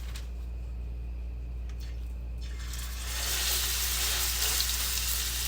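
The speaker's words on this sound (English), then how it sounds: "my pan is nice and hot. And what I'm going to do, I'm going to put my burger down." A smash burger patty sizzles in a hot pan, a sharp broadband crackle that bursts in about halfway through and holds steady and close over a low background hum.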